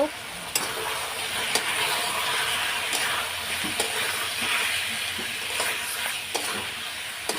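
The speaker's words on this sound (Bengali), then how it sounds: "নুন কাশ্মীর লঙ্কা গুঁড়ো হলুদ গুঁড়ো জিরের গুঁড়ো দেওয়া হয়ে গেছে এখন আমি কষিয়ে নেব" Salt, Kashmiri chili powder, turmeric and cumin powder with tomato sizzle steadily while being stirred in a pan, a constant bright frying hiss broken by occasional clinks of a spoon against the pan.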